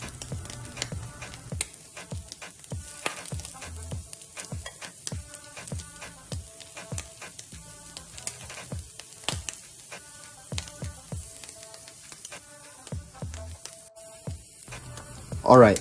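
Shrimp pan-searing in batches in a hot pan: a steady crackling sizzle runs throughout, punctuated by sharp pops and spatters, with a brief clatter near the end.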